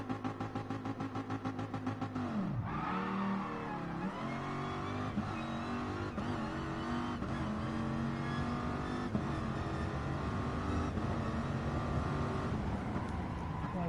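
A car engine in Gran Turismo Sport held at a steady half rev during a quarter-mile drag launch, a sustained droning engine note with shifting pitch and no talk.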